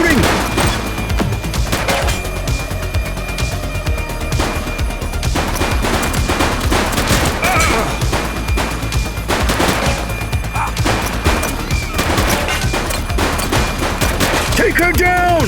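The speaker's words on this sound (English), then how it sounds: "She's shooting!" Dense gunfire in The Precinct video game, rapid bursts and volleys of shots cracking continuously and loudly throughout, with voices shouting over the shooting.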